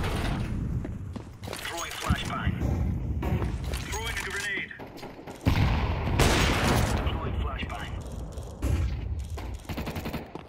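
Gunfire in Counter-Strike 2 cracks out in rapid bursts and scattered single shots, loud and dense at times, mixed with game noise while a player talks over much of it.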